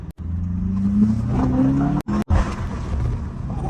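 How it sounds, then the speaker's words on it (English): 2024 Volkswagen Jetta GLI with a DSG gearbox accelerating, engine note rising under load, then two sharp brief cut-offs at the upshift giving an abrupt popping burble before the drone resumes, heard from inside the cabin. "Ooh, the DSG farts."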